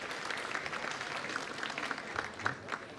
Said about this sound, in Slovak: už to meno samo o sebe by si zasluhovalo váš potlesk